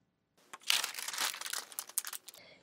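A sheet of garment pattern paper, a drafted front-panel pattern, crinkling and rustling as it is handled up close, a busy run of crisp crackles after a brief silence, with no speech.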